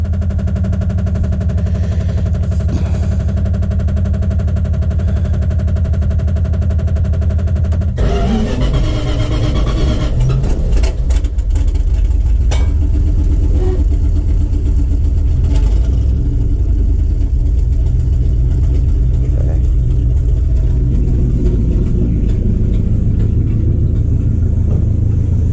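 1977 Dodge W200 truck engine with a mechanical fuel pump and primed carburetor, cranking and catching, then settling into a loud, steady, rumbling idle with a few rattles and clicks, close to the microphone.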